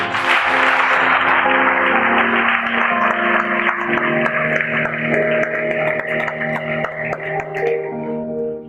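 A church congregation claps together, a dense burst of applause that gradually thins out and fades beneath sustained organ-like musical tones.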